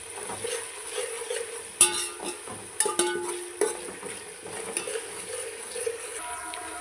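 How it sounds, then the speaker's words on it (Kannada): Ginger garlic paste fries in oil as the base for a chicken biryani, with a moderate close sizzle and intermittent clatter of a spoon stirring and scraping the pan. "ಶುಂಠಿ ಬೆಳ್ಳುಳ್ಳಿ ಪೇಸ್ಟ್ನ ಹಸಿ ವಾಸನೆ ಹೋಗೋವರೆಗೂ ಫ್ರೈ ಮಾಡ್ಕೋಬೇಕು"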